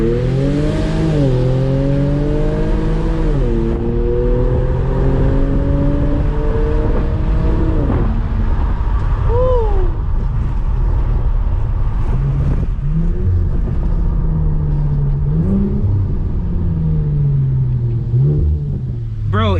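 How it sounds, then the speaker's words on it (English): An Infiniti Q50 launching hard with launch control, its loud engine roaring and climbing steeply in pitch through several gears. Brief dips mark the shifts, and the roar stays close and dominant throughout. "We're gonna floor it. Let's see how fast, how slow he gets up to speed."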